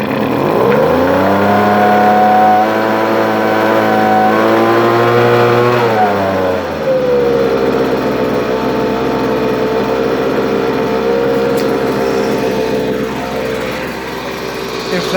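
Close up, a gas-powered lawn mower engine runs at a steady high idle, then its pitch drops and it settles into a lower, continuous drone for the rest of the stretch.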